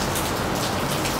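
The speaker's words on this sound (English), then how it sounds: "I would have said let me stay outside, but it is raining" Steady rain pours down outdoors around a house in a Nigerian residential compound, a dense, continuous hiss of drops striking surfaces with no voices.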